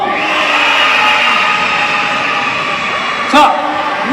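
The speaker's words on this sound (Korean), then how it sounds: "다시 우리 유초등부 함성!" Children in a church shouting together in a sustained, loud, echoing roar that fills the room for several seconds, picked up through a sound system, with a brief louder burst near the end.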